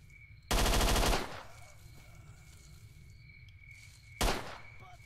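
Gunfire in the first-person shooter S.T.A.L.K.E.R.: Shadow of Chernobyl: a loud, sustained close burst of shots, then quiet ambience, then one more sharp shot a few seconds later.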